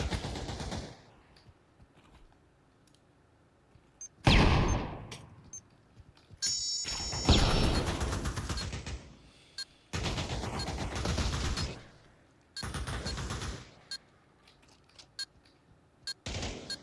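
Automatic gunfire in the VR shooter Pavlov during a competitive match on the Wonderland map, with repeated long bursts and scattered single shots at moderate volume, separated by quieter gaps.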